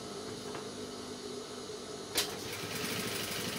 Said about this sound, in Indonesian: Kita jahit kurang lebih 2 mili pada kain keras.